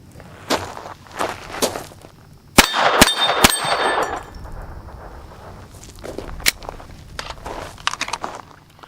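Pistol rounds striking steel plates at an outdoor range ring out as sharp metallic clangs, several spaced hits with a cluster of loud ringing impacts in the middle, plus faint footsteps and scuffing between them.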